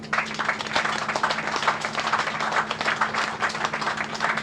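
An audience at an outdoor broadcast of a Nigerian call-in program claps steadily, a dense, even patter of many hands that holds at moderate level throughout with a faint steady hum underneath.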